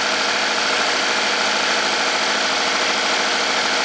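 A Chevy Equinox engine idles after a repair for P0016 and P0011 cam timing codes and low power. The steady, even, fairly loud mechanical hum continues without a break and with no talking.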